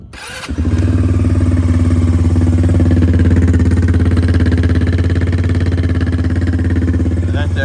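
A 200 cc two-seat quad bike engine starts with a short burst, then runs loud and close in a steady, throbbing rev that holds for several seconds, with no other sounds over it.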